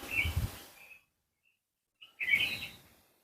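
Birds chirp outdoors in the wind, two short bright calls separated by a gap of near silence, each arriving with a soft rush of wind noise.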